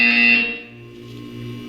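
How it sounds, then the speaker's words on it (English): A short electronic buzzer from the test chamber in Portal 2 sounds once, bright and harsh for under half a second, then fades into a low humming tail. "When you hear the buzzer, look up at the ceiling."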